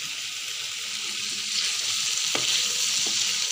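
Onions fry in a pan with a bright, steady sizzle that swells slightly over time, marked by a couple of short scrapes as a spoon stirs them.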